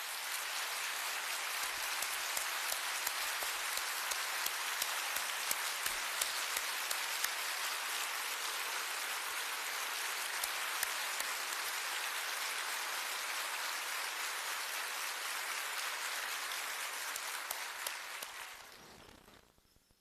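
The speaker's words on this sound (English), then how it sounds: "let's give them a huge round of applause" Sustained, dense applause from a large audience at a speech event at the Clinton School, a continuous roar of clapping held steady for about eighteen seconds before quickly fading out.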